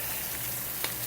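Shallots, chard stems and garlic fry in a pan with a steady, close sizzle, broken once by a quick stir of the spoon.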